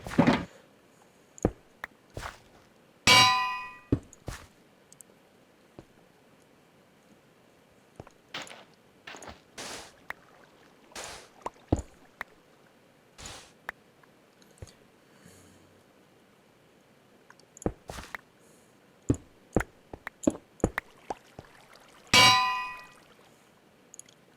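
A bell rings inside a video game, two bright metallic clangs standing out among scattered clicks and soft thumps, with no talking.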